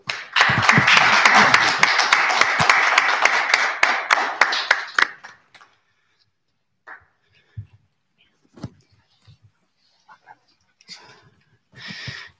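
Audience applause at a book presentation on relations between the United States and Latin America, a dense burst of clapping lasting about five seconds, then dying away into near silence with a few scattered taps and small room noises.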